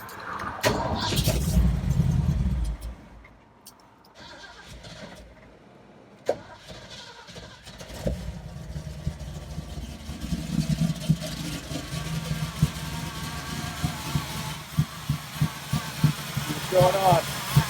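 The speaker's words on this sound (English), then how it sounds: "So I think we're ready to start it up and hear it run." A car engine, just fitted with a rebuilt carburetor, cranks and catches after several seconds, then runs and idles roughly with clattering ticks, close by, while people talk.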